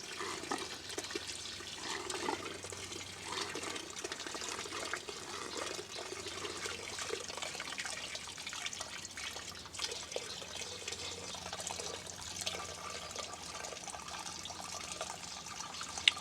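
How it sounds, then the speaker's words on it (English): Gasoline pours steadily into a bucket being used as a parts-cleaning vat in an engine workshop, a continuous faint splashing and trickling stream with no talk. "We're not pouring that much gas into a tank,"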